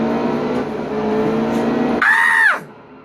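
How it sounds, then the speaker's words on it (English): A race truck engine cranks and fires in the Nascar Heat 2 racing game, a steady engine drone giving way to a rising then falling whine before cutting off sharply. "Alright, let's crank her up."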